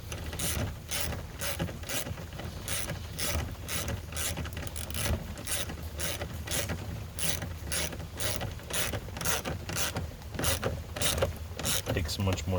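A hand ratchet works on a door lock of a 2000 Yukon or Tahoe, giving rapid, steady clicking strokes throughout; close and fairly loud, with no talking.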